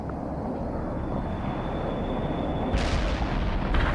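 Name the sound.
cluster bomb explosions in World in Conflict video game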